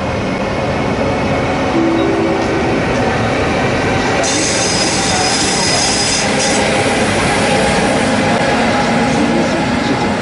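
A Railjet train arriving at Česká Třebová railway station: loud continuous rumble of rolling cars with brief high wheel squeals, close to the platform throughout.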